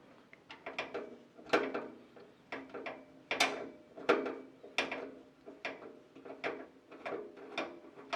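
Screws are being loosened on a desktop PC case panel, giving a rapid run of small ratcheting clicks and squeaks, quiet and close, with no voices.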